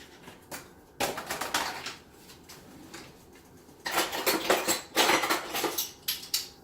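Cubed butternut squash tumbling into a soup pot, two bursts of clattering pieces and utensil knocks against the pot, with quieter gaps between.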